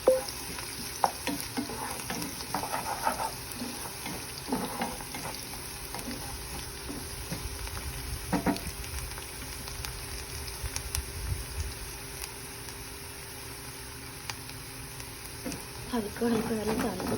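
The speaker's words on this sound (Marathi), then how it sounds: "मीडियम आचेवर कांदा छान हलका लाल होऊ द्यायचा" Onion frying on a medium flame while being stirred, a continuous sizzle broken by repeated scraping and clinking of the spoon against the pan, with a steady hum in the background.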